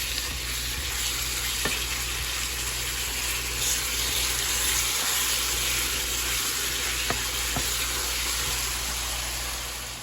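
Beef and chorizo frying in a pan as empanada filling, a steady loud sizzle running unbroken from start to finish with a few faint clicks from stirring and no talk.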